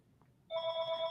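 A church office telephone rings: one short electronic ring starts after a quiet moment, steady and fairly clear, with no talking.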